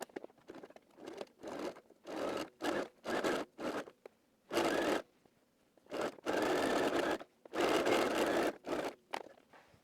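Home sewing machine running a narrow zigzag stitch along a dress seam in short bursts, with several quick stop-start runs and then two longer steady passes, close and clear with no talking.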